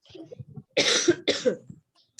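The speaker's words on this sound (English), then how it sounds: "Still, this cough is not gone." Two sharp, close coughs in quick succession, preceded by a few soft murmured sounds, then quiet.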